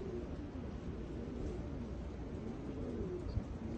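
A pigeon coos in soft, low, repeated calls in a neighbourhood, faint and continuous under steady background noise with no talking.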